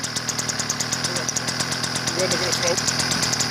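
Model jet engine on an F-14 build running at reduced throttle, giving a steady high whine with a pulsing rumble underneath, held at an even level close by while a person talks over it.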